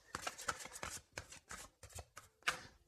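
Oracle cards being shuffled by hand for a new reading, heard as a run of short, crisp riffling and slapping bursts in an uneven rhythm, close and fairly quiet, with no voice.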